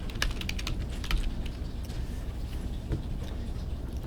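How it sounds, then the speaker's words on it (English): Keys clatter on a computer keyboard as a word is typed into a spreadsheet, a rapid burst of close clicks at first, then sparser taps over a low room hum. "So I click here and type January."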